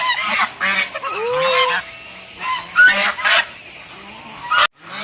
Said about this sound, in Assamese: আৰু এই হাঁহবোৰে কিমান ধুনীয়াকৈ খাই আছে চাওকচোন।